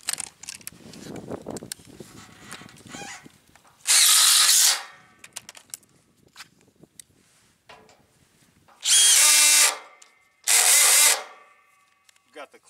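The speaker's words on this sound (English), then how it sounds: "With the drill," A cordless drill driver sinks screws into wooden truss framing in a shop, three loud high-pitched whirring bursts each lasting under a second, separated by quiet pauses with faint handling noise and brief talk at the start.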